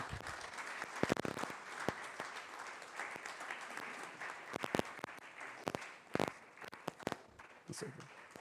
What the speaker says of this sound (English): So kindly clap.